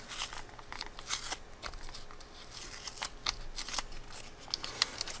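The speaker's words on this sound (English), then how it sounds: "Okay, a new piece of tape." A strip of tape is pulled and torn off a roll while a pencil tube prototype is being built. Close, quiet crackling and rasping bursts repeat irregularly for about five seconds, with no talking.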